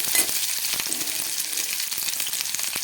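Something frying in a pan for a restaurant-style matar paneer curry, giving a loud, steady, close sizzle and crackle that runs through the whole clip.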